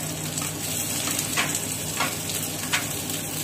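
Two spoons of oil heating in a pan for country chicken curry give a steady, soft hiss throughout, with a few brief crackling pops standing out above the constant sizzle.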